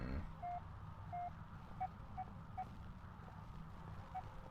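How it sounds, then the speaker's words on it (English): Repeated short electronic beeps from radio speakers in Penumbra Overture, a Morse code pattern of brief tones at irregular intervals, fairly faint over a steady low hum with no talking. "Beeping is coming from these speakers."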